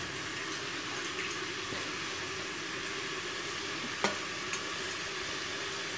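Mutton seasoned with turmeric and salt sautés in a pan, giving a steady, close sizzle and hiss throughout, with a couple of faint clinks of stirring near the end.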